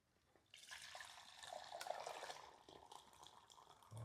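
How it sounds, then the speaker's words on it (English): Juice being poured off a roasted whole pig stomach stuffed for a hog maw dinner in a garage kitchen, a faint, steady liquid trickle and splash lasting a few seconds. "we're going to pour some of the juice off."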